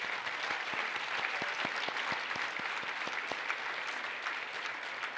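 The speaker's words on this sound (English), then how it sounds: "One last round of applause for our honorees this afternoon." At a National Philanthropy Day luncheon in Greater Cincinnati, the audience gives the honorees a sustained round of applause, thick crowd clapping with a few sharp nearby claps standing out, heard throughout.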